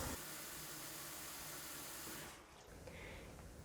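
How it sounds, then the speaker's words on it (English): Hot water running steadily into a kitchen sink, filled a few inches deep during home cheddar cheesemaking; a close, constant rushing stream that drops off near the end into quieter flowing and dripping. "Fill your sink with about 2 or 3 inches of hot water."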